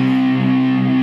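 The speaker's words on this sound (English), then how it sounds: "that's going to give you some distortion" Electric guitar with a distortion effect switched on, a thick sustained overdriven chord ringing steadily and loudly for about a second, nothing else heard.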